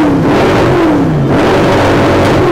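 A V8 supercar engine revs hard at the Beaulieu supercar soundoff, loud and close, its pitch rising and falling through repeated throttle blips with no talking.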